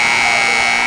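A loud, steady electronic buzzer sounds at a high school boys' basketball game, one sustained tone that fills the whole moment.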